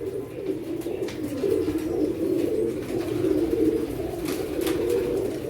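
A male Lakha pigeon coos in a low, rolling, continuous murmur. The sound is close and steady, with faint chirps and ticks in the background.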